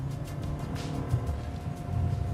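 A 2014 Volvo S60 engine growls with a steady low rumble at high revs, loud and continuous with no voices.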